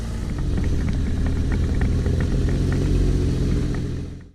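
A car running without its rear bumper, its engine rumbling low and steady with a faint whine on top, close and continuous until it cuts off abruptly at the end.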